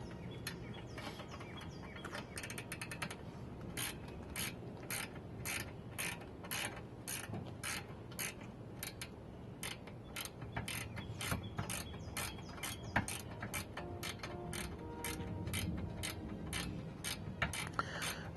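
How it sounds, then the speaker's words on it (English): A ratcheting wrench turns a brake hose fitting on a Mercedes S-Class brake caliper, making a long, even series of crisp metallic clicks at close range over a low mechanical hum, with no speech. "Having a ratcheting wrench helps so much"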